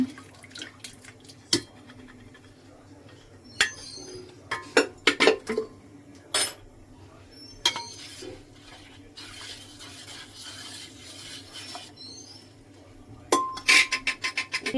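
Boiled lentils and boiled vegetables being mixed together in a bowl for sambar, with soft stirring and scraping broken by scattered sharp clinks of a spoon against the bowl, close and fairly quiet, no talking.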